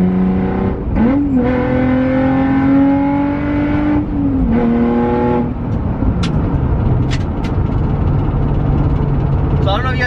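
Nissan 350Z with a Torque Solutions short shifter on the street, engine note rising and falling through gear changes, close and loud with a long held rev and a drop-off mid-drive, cabin noise throughout.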